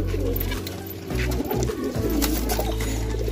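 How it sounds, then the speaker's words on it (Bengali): Racer pigeons coo in a steady, close chorus, a continuous low rolling burble with a few brief dips, and no talking over it. "পর পর পায়রাগুলো ধরে ধরে দেখানো হচ্ছে"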